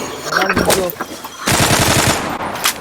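Rapid automatic gunfire in the online shooter Zula during a clan match, loud close bursts of machine-gun fire with a brief pause before a second dense volley.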